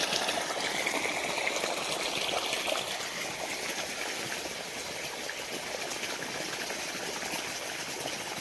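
Irrigation water streams steadily into a field being prepared for a summer onion crop, a continuous close rushing and trickling with no pauses and no voices.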